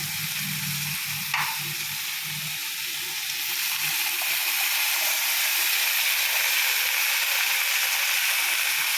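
A constant soft hiss and bubbling of greens simmering in water with turmeric in a pot on the stove, steady and close, with a faint low murmur early on.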